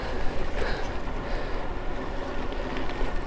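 A steady DIY electric bike motor, running near its maximum at about 20 mph on throttle, whirrs and hums continuously at close range, with broadband mechanical noise and no pauses.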